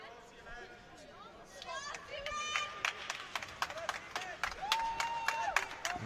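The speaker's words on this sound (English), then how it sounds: "and met with applause ringside." A ringside crowd at an amateur boxing tournament semifinal claps after a bout, with scattered applause and cheering rising over commentators talking nearby.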